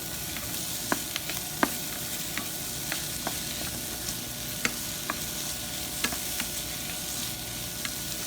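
Chickpeas browning in a pan, a steady soft sizzle with occasional sharp clicks and pops from stirring, close and alone without voices.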